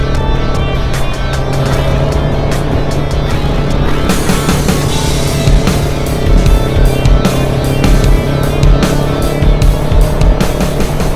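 A Kawasaki Ninja 1000SX motorcycle on a test ride in Quezon Province, its engine droning loudly and steadily with rising revs and gear changes, wind rushing throughout.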